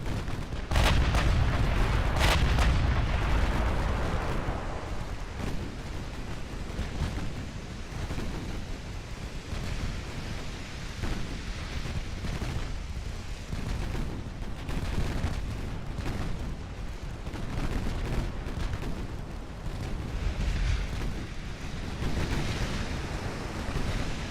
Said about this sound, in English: There's something so satisfying about seeing all of these guns going